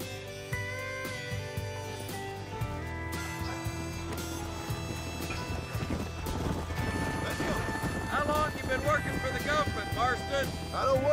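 Horses clip-clop at a gallop in the Red Dead Redemption video game on PS5, steady hoofbeats under game music and talking voices, with a brief whinny and rising clatter toward the end.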